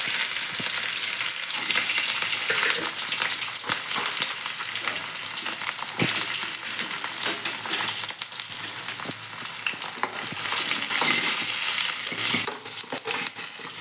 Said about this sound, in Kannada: ಈಗ ಇವು ಎಣ್ಣೆಗೆ ಒಂದು ಸ್ವಲ್ಪ ಫ್ರೈ ಆಗ್ಬೇಕು